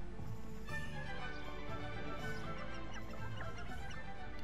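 A chicken in the Hogwarts Legacy video game clucks in scattered, faint, short calls over a constant low background hum of game ambience.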